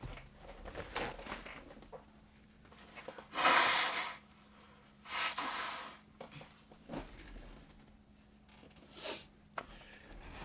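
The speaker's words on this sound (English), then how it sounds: "I'm going to blow my nose here because I'm still sick." Someone blows their nose a few times, short loud honking bursts separated by quieter breathing, close up in an indoor room with a faint steady hum.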